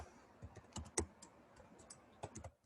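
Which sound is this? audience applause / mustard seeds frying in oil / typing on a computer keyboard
typing on a computer keyboard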